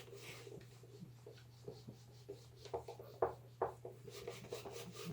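A marker pen scratches and squeaks across a board, leaving a poor mark, in faint short strokes that grow a little sharper midway, over a steady low electrical hum.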